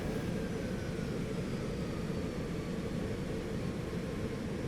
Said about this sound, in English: you can hear the added noise from flaps and gear